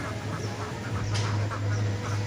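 Laying ducks quacking in a pen, several overlapping quacks over a steady low hum, moderately close.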